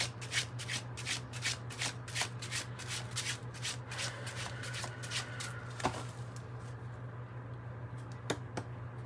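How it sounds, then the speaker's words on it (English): A gold foil tarot deck being shuffled by hand, a quick run of crisp riffling card flicks followed by a few separate taps, close and fairly quiet. "Let me give this a little shuffle."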